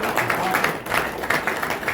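An audience at an Enagic business seminar applauds, a dense, continuous patter of clapping hands at moderate loudness that lasts the whole moment.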